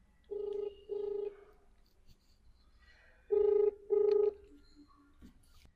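A mobile phone call rings out unanswered, two pairs of short electronic ringback tones separated by a pause, faint and close against a quiet room.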